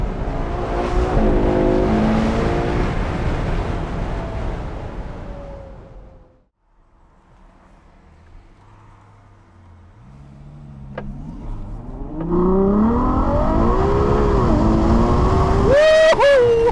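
Ferrari 812 GTS V12 accelerating hard, a loud, close howl that rises through the gears, drops away to near quiet during a lift, then surges again to a shrill high-rev wail.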